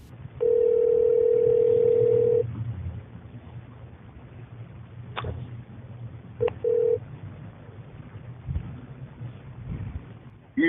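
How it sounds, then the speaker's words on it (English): A telephone call being placed: a long steady tone first, then scattered clicks and a couple of short beeps over a noisy, windy line, with faint voice-like sounds near the end. "we'll take you to the phone call that we put into Mr. Porter earlier"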